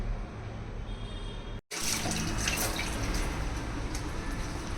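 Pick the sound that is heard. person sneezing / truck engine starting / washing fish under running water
washing fish under running water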